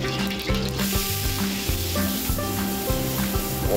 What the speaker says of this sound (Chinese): 我们在炒虾子的馅料的时候，我们会让它干炒上煎的有点两面有点金黄色